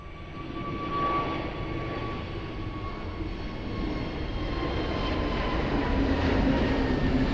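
An airliner rolls for takeoff at Lisbon Airport, its engines a broad, steady roar that builds slightly over several seconds, heard from a distance with a thin whine above it.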